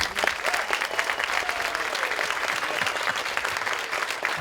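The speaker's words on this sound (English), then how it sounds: "Please clap it up again for Betty Hunter and the courage to lead us." An outdoor audience claps steadily for a speaker at a housing groundbreaking ceremony in Sunnydale, San Francisco, a dense, sustained wash of applause that stays loud throughout with no voices rising above it.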